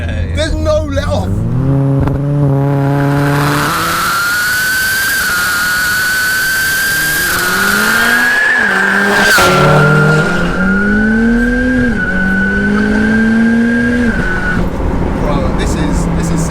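A modified 713bhp four-wheel-drive VW Golf GTI accelerates hard through its gears, the engine pitch climbing steeply and dropping at each shift, then holding a sustained loud howl, heard from close inside the car with people talking over it.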